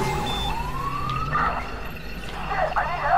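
A police car siren in Watch Dogs wails with rising and falling tones, fairly close, over a steady background hum with some other noises mixed in.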